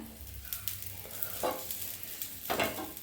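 Chapati roasting with oil on a hot pan gives a soft, steady sizzle, with two brief, louder crackling bursts as the flatbread is turned over.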